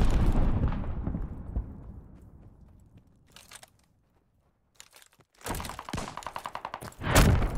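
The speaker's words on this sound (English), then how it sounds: "Glide bomb, ready for target!" A glide bomb strike in the video game Call of Duty Vanguard: a deep booming blast that rumbles and fades over several seconds, then sharp scattered cracks and a rattling burst of gunfire.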